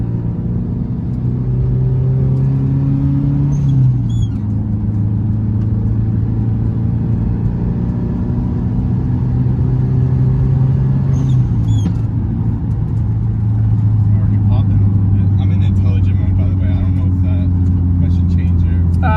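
Engine of a tuned Subaru STI hatchback with an external wastegate, revved in place toward 4,500 rpm: a steady, loud mechanical drone whose pitch climbs and then drops back, twice over the stretch.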